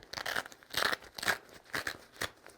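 Velcro on the front flap of a USWE Zulo hydration hip pack rips open in several short, loud tearing bursts, close up, with no talk.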